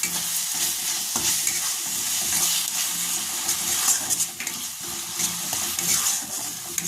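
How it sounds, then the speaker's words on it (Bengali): Ground spices such as Kashmiri chili powder and cumin powder, with a little sugar, are stirred and fried in a pan for an egg paneer dish: a continuous sizzle with scraping stirring noises, close and without talk. "সবগুলো ভালো করে নাড়াচাড়া করে ভেজে নেব।"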